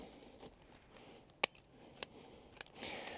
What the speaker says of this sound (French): je vais venir couper pratiquement toutes les racines que je vois